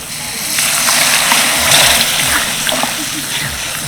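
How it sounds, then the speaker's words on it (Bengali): Water poured into egg curry masala in a pan, a loud close splashing and sloshing burst lasting a few seconds with a bubbling hiss underneath. "এই দেখো এবার আমি এর মধ্যে দিয়ে দেবো জল"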